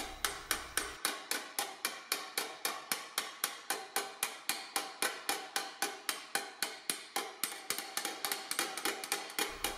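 A hammer strikes sheet metal on a polished anvil in steady, evenly spaced blows, around forty crisp ringing metallic hits over several seconds, close and alone with no talking.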